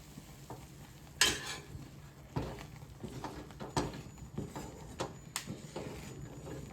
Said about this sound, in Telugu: అలా నెయ్యి అయ్యే వరకు ఇది ఇలా కలుపుతూనే ఉండాలి